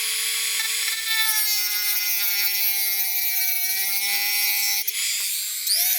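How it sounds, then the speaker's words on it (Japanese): A Mini 4WD shaft is cut with a high-pitched motorized tool, a steady whining buzz with strong harmonics that holds for about five seconds, breaks off briefly, then starts again. "普通に組むとシャフトがタイヤと干渉しそうなので切断します。"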